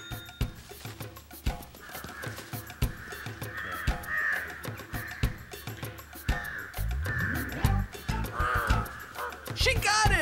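Several crows caw repeatedly at close range, harsh calls rising and falling over a steady outdoor background, with other sounds and some voices mixed in during a leaf-and-bread memory game.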